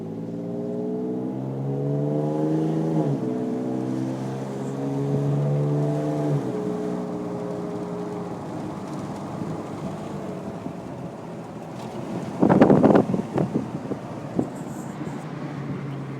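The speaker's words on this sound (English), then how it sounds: "There's a couple of different sound bites inside the cab with the Wicked Flows exhaust." A truck fitted with a Wicked Flows exhaust, heard from inside the cab with the windows down, drones loudly as the engine pulls and shifts, then eases into a rumbling cruise with wind noise and a brief rattling clatter near the end.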